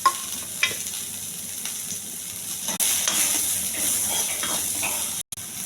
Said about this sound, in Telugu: శనగపప్పు, కరివేపాకు, ఉల్లిపాయలు బాగా ఎగించాలి.